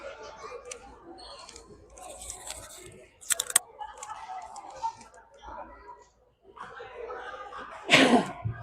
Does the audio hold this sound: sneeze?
yes